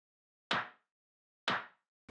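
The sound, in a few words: clap sample with added reverb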